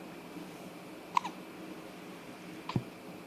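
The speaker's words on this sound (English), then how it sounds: "You get the hiccups?" A baby hiccups twice, small sharp catches about a second and a half apart, close and quiet in a still room.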